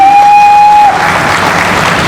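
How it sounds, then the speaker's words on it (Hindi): An audience at a Hindi poetry recital breaks into loud, steady applause just after a brief sustained tone cuts off, the clapping filling the rest of the moment. "ये आपके शहर की एक बार तालियां उनके लिए होनी चाहिए"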